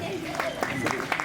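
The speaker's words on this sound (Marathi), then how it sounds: "जोरदार टाळ्या होऊन जाऊ द्यात सुंदरताईंसाठी" Audience applause at an honours ceremony for the widow of a martyred soldier, a short burst of dense clapping with a voice speaking over it.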